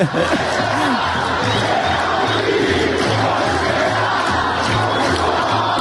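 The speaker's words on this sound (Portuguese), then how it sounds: "Tá aí a torcida do Bragantino" Bragantino football supporters chant in a steady, rhythmic, repeating pattern, a loud crowd sound that continues throughout with a constant roar of voices behind it.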